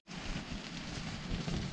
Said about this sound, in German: Jetzt werde ich noch mein erstes Gewitter